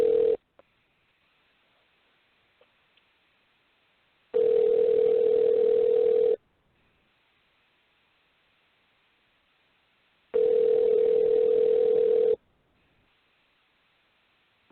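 A telephone line tone plays while calling someone back, sounding as two steady two-second bursts separated by long silent gaps, clear and fairly loud with nothing else heard.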